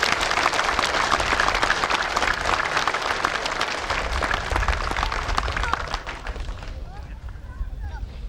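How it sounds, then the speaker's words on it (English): An audience at a park opening ceremony for a GAA ground in Asdee applauds, dense clapping filling the room for about six seconds before dying away, with voices mixed in. "Could we give him a little clap?"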